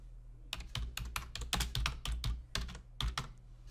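A file name is typed on a computer keyboard in quick, irregular bursts of close, crisp key clicks over faint room hum, with no one talking.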